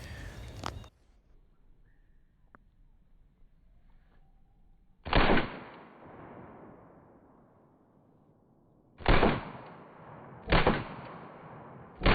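Shots from a Chiappa PAK-9 9mm AK-style pistol crack out at an outdoor range: one at the start, then three more spaced a few seconds apart, each loud and close with a short trailing echo.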